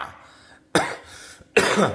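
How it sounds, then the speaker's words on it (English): Two harsh coughs close to the microphone, separated by a short pause, with quiet background murmur before them. "You can hear the cough."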